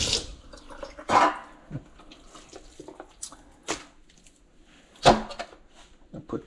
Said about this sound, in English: so now rinse this off a little bit